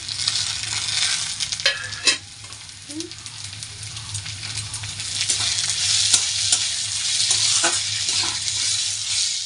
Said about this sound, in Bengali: পেঁয়াজ কুচি ভাজা হয়ে গেছে এবারে দিয়ে দিলাম টমেটো কুচি